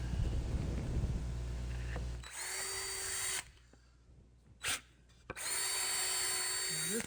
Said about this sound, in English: So a little pre-drill is a good idea.